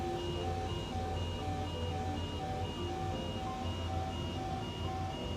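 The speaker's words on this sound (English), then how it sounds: "Oh, it's overspeed. Over recommended speed." A Boeing 787 overspeed warning alarm in Microsoft Flight Simulator 2024 sounds as a steady, repeating electronic chime-tone pattern. It plays alone in an even cockpit hum.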